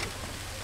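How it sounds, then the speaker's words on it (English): Steady rain falls over a campsite with tents pitched, a soft, even wash of drops on surfaces with no voices. "It's starting to rain pretty good"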